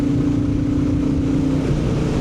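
A Royal Enfield Bullet 350 motorcycle's exhaust note gives a loud, close, steady low thumping drone that holds level and shifts pitch slightly near the end, heard on its own.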